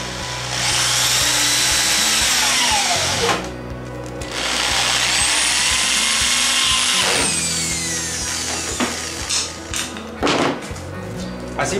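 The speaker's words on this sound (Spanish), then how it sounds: "vamos a colocarle las pijas punta de broca" A power drill drives self-drilling drill-point screws into a mobile workshop tool-organizer panel, whining loudly in two long sustained bursts that rise and settle, followed by shorter spurts and clicks.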